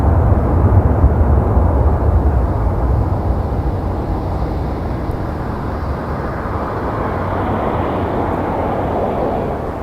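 A Sunwing airliner lands on runway 24 right at Toronto Pearson with engine reversers deployed, giving a broad, steady distant roar that slowly eases off without talk.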